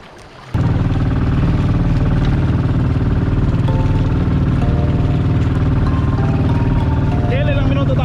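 A boat engine starts by push button and settles into a loud, steady running drone that continues to the end, with voices talking over it, on a trip to Calaguas Island.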